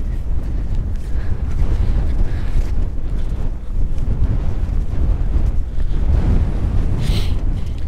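Strong wind gusts buffet the microphone at a coastal battery, Fort Ebey's Battery 248, in a steady, loud, low roar with no one speaking.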